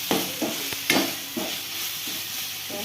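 Raw moth beans roasted with masala in a pan give a close, steady sizzle broken by several scraping stirs of a spatula, with no one speaking.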